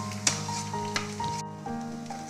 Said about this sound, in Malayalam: സെയിം ഓയിലിലേക്ക് തന്നെ നമുക്ക് ഈ വെളുത്തുള്ളി ചേർത്ത് കൊടുക്കാം.